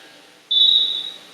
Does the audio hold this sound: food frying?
no